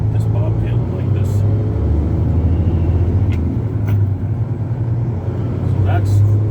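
Semi truck running bobtail with no trailer, a loud low diesel rumble pulsing as the engine revs and drops through gear shifts, close up inside the cab, with someone talking over it.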